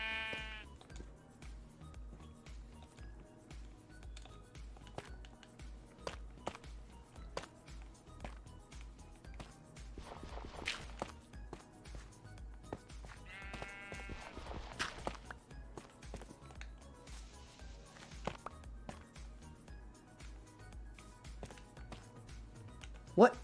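Sheep in the Minecraft video game bleat a couple of times amid blocky footsteps and clip-clop game effects, faint and steady across the scene.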